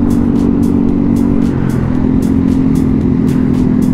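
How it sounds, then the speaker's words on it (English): Road traffic in Cotabato City, a continuous close engine drone of cars and motorcycles, heard from a moving motorcycle with a regular ticking clatter and steady rumble throughout. "So traffic, konting traffic yan sa ano, sa Cotabato."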